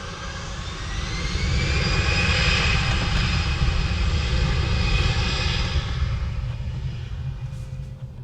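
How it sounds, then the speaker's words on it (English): Airplane engine passing overhead, a steady loud roar that swells and slowly fades over several seconds, heard from a parked car with no talking. "Plane."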